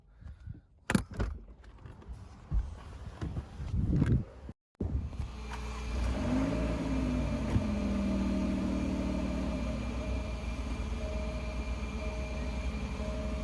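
An Alfa Romeo Giulia QV runs rough as if about to stall, a low uneven engine drone with wavering tones that settles into a steady hum after some handling clatter and a brief dropout.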